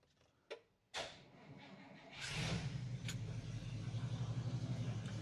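A classic car engine starts with a turn of the ignition key, with a couple of short clicks and a brief crank, then catches into a steady, rumbling idle that carries on close by.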